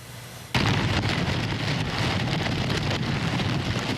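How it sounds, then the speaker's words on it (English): Heavy typhoon rain lashing Hong Kong, a dense, loud, steady roar of downpour with gusting wind that starts abruptly and continues without pause. "Typhoon Regina also lashed Hong Kong with ferocious winds, heavy rain."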